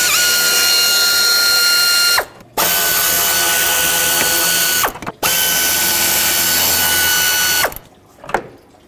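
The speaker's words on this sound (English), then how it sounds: "to actually get to the throttle body, I need to remove this cover, 3 8mm bolts" A power ratchet removes three 8mm bolts from the throttle body cover of a 1997-2003 Ford F-150, running in three loud, steady whirring bursts of about two seconds each, separated by short pauses.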